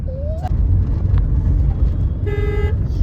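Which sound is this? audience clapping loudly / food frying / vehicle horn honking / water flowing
vehicle horn honking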